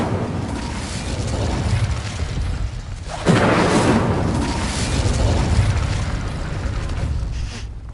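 An Incendio fire spell cast in Hogwarts Legacy on PS5 roars up as a loud, sustained whooshing burst of flame over a rumbling background, swelling suddenly midway and holding.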